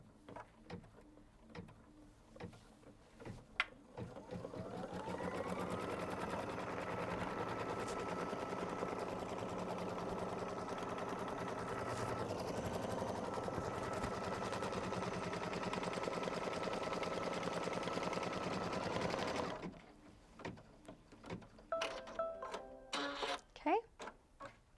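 A sewing machine stitches a placement line on a quilt, running in a steady fast whir for about fifteen seconds, with brief talk and handling noises before and after.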